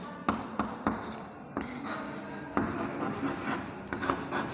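Writing on a board during an accounting lesson, with scratchy rubbing strokes broken by sharp taps, irregular and close, no speech.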